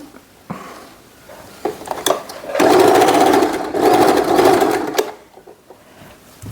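A sewing machine stitches fabric for a long blouse in two sustained bursts with pauses between them, close and steady, with a few small clicks and handling noises around the runs.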